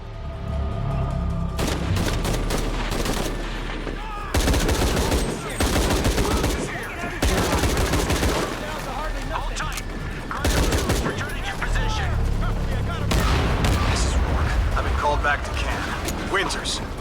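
Rifle gunfire in Shadow of the Tomb Raider, loud bursts and sustained volleys of shots with booming impacts, repeating in clusters across the scene amid game effects and occasional talk.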